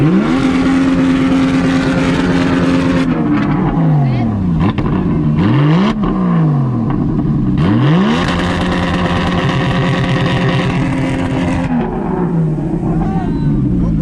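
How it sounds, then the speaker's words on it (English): A Porsche revs hard at a two-step launch-control competition, with loud, repeated climbing and falling engine sweeps, popping crackles and crowd noise. Voices are heard faintly beneath the roar. "All right, let's hear the Porsche."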